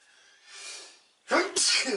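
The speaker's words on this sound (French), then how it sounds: "Moi, j'éternue." A person sneezes once near the microphone, a soft intake of breath followed by a sharp, loud burst, in a quiet room during a model-building session.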